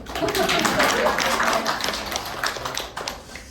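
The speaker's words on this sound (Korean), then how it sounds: "박수." A small audience at a Korean talk on side business and work claps briefly. The sharp, uneven claps start strong, fade toward the end and are mixed with some voices.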